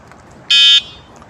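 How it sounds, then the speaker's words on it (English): Electric bicycle horn giving one short, shrill electronic beep, loud and close, over faint background noise. "This is the sound of this electric cycle horn"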